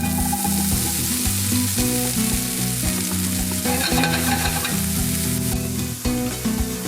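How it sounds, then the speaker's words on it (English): Green onions sizzle in hot olive oil in a pan, a loud continuous crackling fry, with music playing underneath throughout. "We're gonna add some olive oil, get it nice and hot, and then we're gonna add our green onions."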